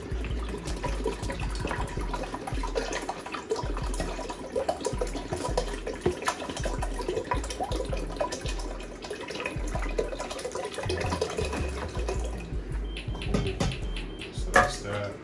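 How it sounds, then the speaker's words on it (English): Water poured into a jar of sea moss with key limes, a steady wet splashing and trickling that runs continuously at close range, with voices talking over it. "start pouring water in here"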